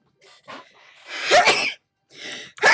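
A person sneezes once, sharply and close by, after a short inhale and a few breathy catches, at a tabletop role-playing game session.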